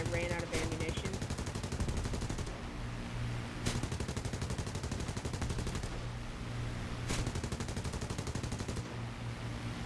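Sustained rapid aircraft machine gun fire strafing ground targets in War Thunder, a dense continuous rattle lasting several seconds with brief breaks and sharp impacts, loud and close, with a voice speaking over it.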